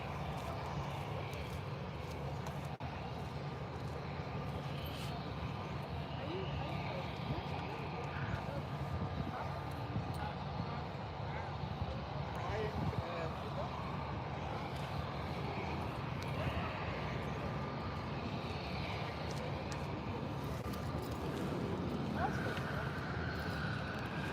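A Ryanair Boeing 737 jet departing Birmingham airport, a steady broadband engine roar holding evenly throughout at moderate distance, with a faint tonal whine running underneath.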